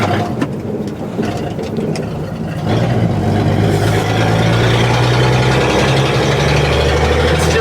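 An old dump truck's engine idles with a loud, steady low rumble, its tone rising and thickening partway through as gears are shifted, with no talking over it.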